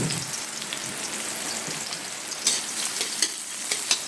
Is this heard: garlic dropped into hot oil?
yes